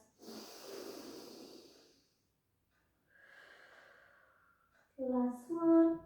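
Deep breaths during a Pilates exercise: a strong airy exhale, then a softer second breath after a pause, ending with a brief burst of voice.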